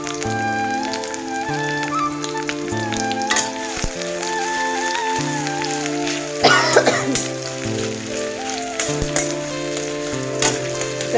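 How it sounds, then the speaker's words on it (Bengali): Onions crackle and sizzle in hot oil beneath steady background music, with a brief louder spatter midway. "পেঁয়াজটা ভালো করে ভেজে নেব"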